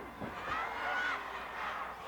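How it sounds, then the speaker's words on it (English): A large wrestling arena crowd in Fort Worth chants for Bruiser Brody during his 1986 match against Abdullah the Butcher, a broad, rolling roar heard from a distance with a few whistles rising above it. "Listen to this huge crowd in Fort Worth chanting, Bruiser, Bruiser."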